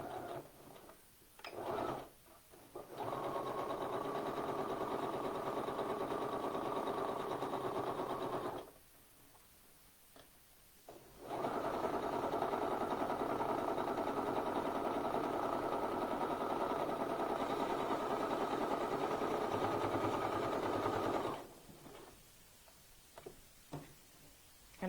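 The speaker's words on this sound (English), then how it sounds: "my sewing machine to that seam line that we had sewn before" Sewing machine stitching a seam on a garment, running in two long steady bursts of fast even whirring, close and fairly quiet, with short pauses between runs and no talk.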